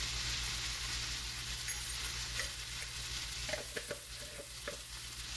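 Bhindi (okra) with turmeric sizzling in a frying pan, a steady dense frying hiss throughout with a few soft stirring scrapes and taps toward the end, close up and without talk.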